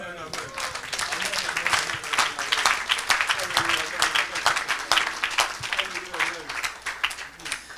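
A church congregation praising the Lord with sustained, dense applause and clapping, crowd voices and cheering mixed in throughout while a preacher speaks.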